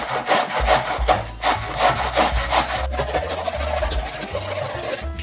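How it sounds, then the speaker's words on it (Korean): Radish grated by hand on a grater for cold buckwheat noodles, a steady, loud rhythmic rasping of strokes back and forth, close up and continuing throughout. "그대로 갈아주세요."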